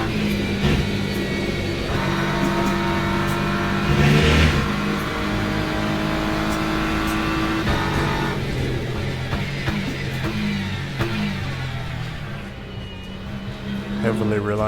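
A race car engine in Le Mans Ultimate revs and shifts through corners on a wet track, droning steadily with rising and falling pitch while someone talks over it throughout.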